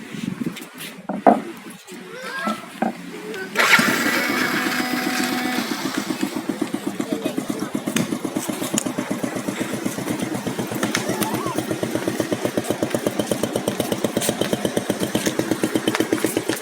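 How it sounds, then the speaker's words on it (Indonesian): A motorcycle engine fires up by voice command and settles into a steady, close idle with rapid regular pulses, after a few seconds of quieter handling noises. "Nyalakan motor."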